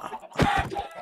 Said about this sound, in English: Oh, there's another chicken.